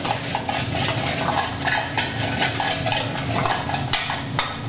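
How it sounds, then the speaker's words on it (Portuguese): Pre-cooked lamb sizzles and fries in a pan in an Indian restaurant kitchen, with steady frying hiss, stirring, and occasional clinks of utensils against the pan, close and fairly loud. "Porque agora vamos colocar essa cordeiro."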